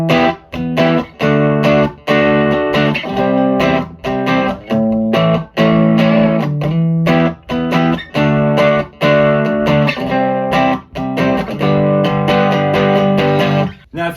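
Electric guitar on the bridge pickup, driven through a Vox AC10 amplifier with heavy distortion, playing loud sustained chords and riffs in choppy bursts with brief gaps, no voice.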